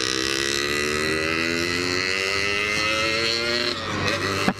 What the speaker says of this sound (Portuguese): Dois tempos queimando o óleo daquele jeito, ó. Ronca bonito, viu?